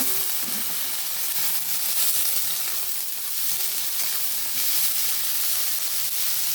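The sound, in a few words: vegetables (beans, cauliflower, carrot, peas) frying in pan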